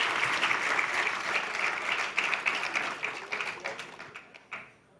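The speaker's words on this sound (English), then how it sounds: "Most number of claps for you." Audience applause at a valedictory ceremony, a dense burst of many hands clapping that stays strong for a few seconds, then thins into scattered individual claps and fades out.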